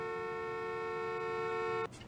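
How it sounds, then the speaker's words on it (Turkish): Car horn blaring continuously in the Parking Tycoon business simulator game, a loud steady electronic honk held for nearly two seconds before cutting off abruptly. "Bu ne korna abi hevesidir ya."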